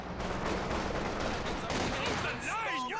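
Soviet SVT rifle conscripts fire in the strategy game Company of Heroes 2, a dense run of rapid gunshots with battle noise, followed near the end by a whistling, sweeping sound.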